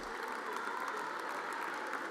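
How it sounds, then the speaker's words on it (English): Audience at the Hofstra University Athletics HOFSPYS award show applauding the seniors, a steady, even roar of clapping from a large crowd that holds level throughout. "A round of applause, ladies and gentlemen,"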